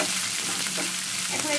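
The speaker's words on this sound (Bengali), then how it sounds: "দেখুন মাংসগুলো থেকে আমি পানি বের হতে দিই, যতটুকু যে ভাজাটা প্রায় আমি 2 থেকে 3 মিনিট ভেজে নিলেই হবে" Pieces of meat fry in hot oil in a pan for a homemade pizza topping, a constant loud hiss and crackle with no talking.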